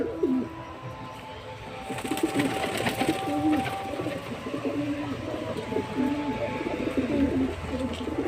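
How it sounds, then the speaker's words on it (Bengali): Domestic pigeons coo repeatedly at close range in low rolling phrases, with a steady rhythm over background noise and someone talking intermittently. "এই আমার সব পায়রা আর ওপরে ছটা উঠছে"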